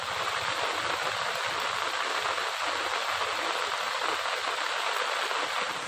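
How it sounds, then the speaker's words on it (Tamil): Light drizzle falling in the Cheyyar area of Tiruvannamalai district, Tamil Nadu, a soft steady hiss of rain without pauses, fairly faint and uninterrupted by any voices. "அவ்வப்போது சாரல் மழை பொழிந்து வருகிறது"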